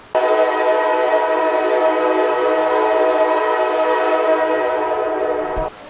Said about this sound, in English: I just wanted the train noise, the horn.